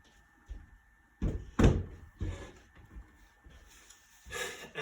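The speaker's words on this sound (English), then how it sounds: "So I'll just move this chair out of the way." A chair is shifted aside to clear floor space in a fitness testing room before a push-up test, giving a few scraping thumps and knocks close by, with no talk.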